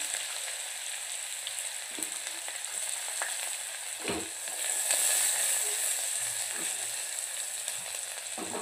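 Mustard seeds, bay leaves, green chili and onion frying in hot oil, a steady soft sizzle with a few stirring clinks and taps.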